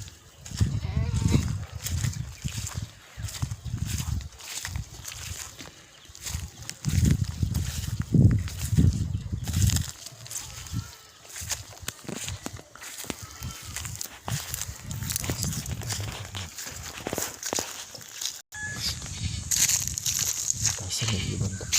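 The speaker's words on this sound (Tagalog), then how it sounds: "Kambing." Goats bleat intermittently in a hilly forest in Batangas during a search for wild honey, the calls mixed with footsteps, rustling and people talking nearby.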